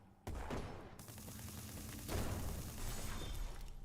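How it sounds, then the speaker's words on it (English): Shoulder-mounted shotgun and cannon fired in the video game Dolls Nest: a sudden loud onset of dense, continuous blasts and rumbling booms, swelling stronger midway and sustaining to the end. "shoulder mounted shotgun and cannon"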